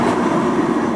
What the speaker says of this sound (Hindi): फाइव किलोमीटर का डिस्टेंस कवर करते हुए 3:40 पर हमारी ट्रेन पहुंची है